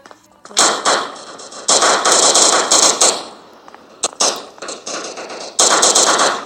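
Gunfire in the portable hunting video game Pro Hunt rips out in loud, close bursts of rapid repeated shots, several volleys broken by short pauses and a few single cracks, with no talk over them.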